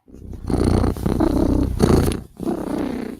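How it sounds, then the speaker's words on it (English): A close, loud cat purr rumbles steadily in long pulses, pausing briefly between breaths, with no voices. "If Cat is purring, Cat is a very, very, very happy girl"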